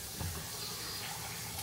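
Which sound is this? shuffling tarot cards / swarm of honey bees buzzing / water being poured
water being poured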